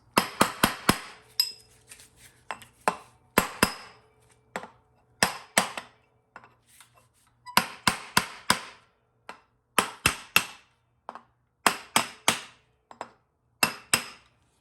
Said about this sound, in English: use like something like a brass punch to tap it all around so that it fully seats